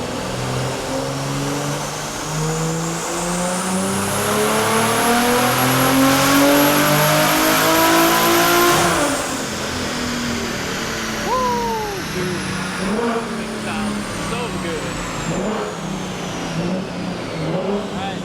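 A 1000-horsepower all-wheel-drive BMW M3 revs hard on a dyno pull under heavy boost, the loud engine note climbing steadily to a high screaming peak, then dropping off sharply into wavering decel sounds and a few short blips.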